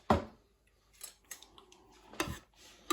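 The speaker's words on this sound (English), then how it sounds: "Give it a stir." Steak Diane casserole with double cream being stirred in a slow cooker, a few sparse, sharp clinks and scrapes of a utensil against the pot, quiet between the knocks.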